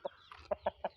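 An eleven-month-old rooster with spurs gives a quick run of short, sharp clucks, about four or five close pulses in a second, near and clear with no talk.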